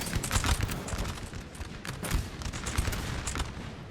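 Musket volleys crackle in a Napoleon Total War multiplayer battle, dense overlapping bursts of small-arms fire with sharp peaks, moderately loud and steady throughout.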